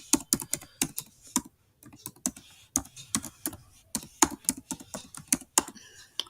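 Someone types an email on a computer keyboard in quick, uneven bursts of crisp clicks with one short pause, close up and with no talking.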